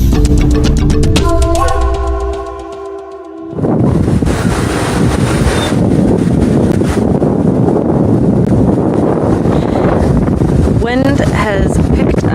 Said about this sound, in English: Wind has picked up again out of nowhere.